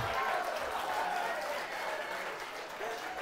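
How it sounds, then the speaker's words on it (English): An audience at a talk on insects of the Gorge applauds warmly, a dense patter of clapping that holds steady and then thins slightly toward the end. "accept warm applause for Maggie Freeman and all of her insects"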